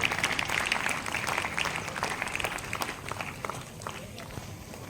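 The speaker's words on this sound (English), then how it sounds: "I request everyone to please give them a big round of applause." Audience applause at a school mock parliament event, scattered clapping that starts fairly strong and gradually thins and fades over a few seconds.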